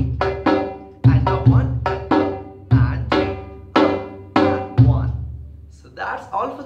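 Hand-played conga rhythm variation with the second and fourth beat offbeats left out: a series of sharp, loud drum strikes in an uneven repeating pattern, each ringing briefly, with no talk over them.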